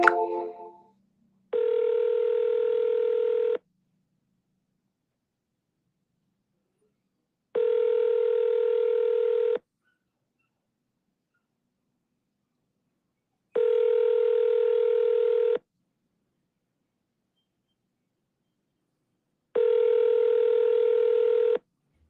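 Four identical steady telephone tones sound alone, each about two seconds long and evenly spaced by long silences, after a brief burst at the start.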